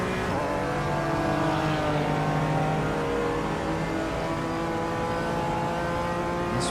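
BMW race car engine in the iRacing simulator, revving hard and holding a steady high drone as it accelerates out of a left-hand corner, loud and continuous, with rising harmonic whine.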